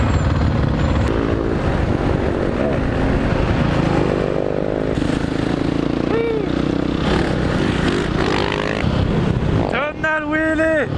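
Supermoto motorcycle on a street ride, its engine revving loud and close through a tunnel, pitch climbing and falling with throttle blips and a sharp rising rev near the end during a wheelie, with riders shouting over it.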